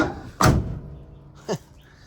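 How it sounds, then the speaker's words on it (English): The door of a 1977 Dodge Ramcharger 4X4 V8 slams shut with a loud, close metallic thud, followed about a second later by a softer second thunk. "I just love when these doors shut like that."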